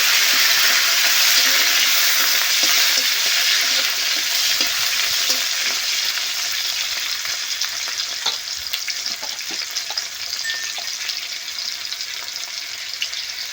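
Panch phoron spices and tomato frying in a pan, a loud continuous sizzle with a spoon scraping and stirring through it, close up and without talk, easing slightly toward the end.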